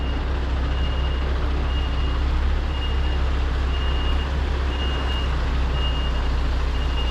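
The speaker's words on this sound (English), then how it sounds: "I try and park the trailer in the middle of their yard so they could get access on both sides" A truck's engine drones steadily while it reverses a trailer into a yard, with a faint repeating reversing beep running through the low rumble.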